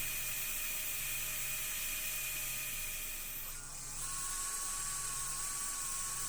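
A 1.7 mm drill bit boring out a post: a steady, high-pitched whine with a faint mechanical hum beneath, dipping briefly before settling at a slightly changed pitch.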